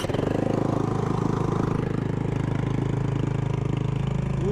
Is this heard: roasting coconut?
no